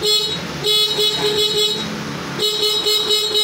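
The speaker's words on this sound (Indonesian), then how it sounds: "untuk klakson masih oke ya" A Yamaha Force FI motorcycle horn sounds loud and close during a workshop electrical test, two long steady blasts split by a short gap, with no talk over it.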